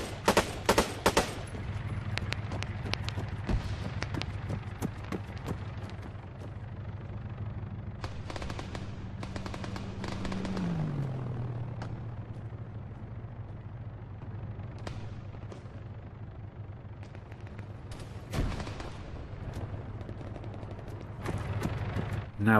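Video game gunfire from Arma 3 crackles in sharp bursts at the start, then sporadic distant shots and a louder volley later, over a low humming background with a shifting engine-like drone.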